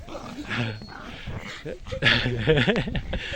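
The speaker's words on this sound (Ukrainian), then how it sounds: "Крістіна, підтяни собаку, підтяни, підтяни, підтяни." A dog out on an evening walk gives short yips and whimpers close by, mixed in with people talking loudly over and around it.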